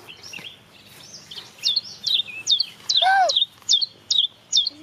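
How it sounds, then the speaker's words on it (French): A common blackbird sings close by, with a run of clear, loud whistled phrases that repeat in quick succession, each one rising and falling against a quiet background. "Le merle noir."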